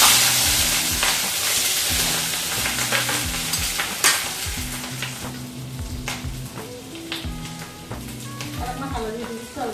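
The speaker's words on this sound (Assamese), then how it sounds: "এটা কেৰাহীত তেল দি আলু পিছ অলপ ভাজি দিছোঁ" Potato pieces fry in oil in a wok, giving a steady loud sizzle broken by repeated scraping stir strokes, with a voice talking now and then underneath.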